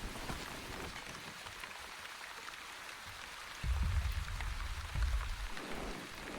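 Steady rain falls in the farming-survival video game The Wandering Village, a dense even hiss with low rumbling swells near the end, no voices.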